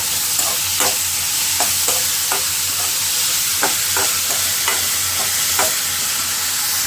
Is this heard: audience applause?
no